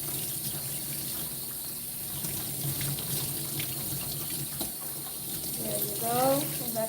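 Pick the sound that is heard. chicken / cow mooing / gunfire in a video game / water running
water running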